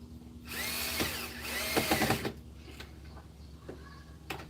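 Power drill driving screws into wood, with a whirring run of about two seconds that rises and strains as the screw bites, then quieter handling noises afterward.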